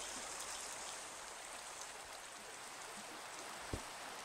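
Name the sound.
rain falling in the video game Minecraft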